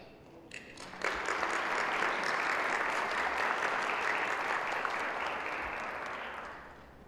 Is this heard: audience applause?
yes